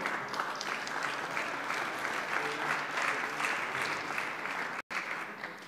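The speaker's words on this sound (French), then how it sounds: "Je pense que vous pouvez effectivement les applaudir." Dense, sustained applause from an audience at a French trade union meeting for chambers of commerce staff, a steady wash of many hands with a brief dropout near the end.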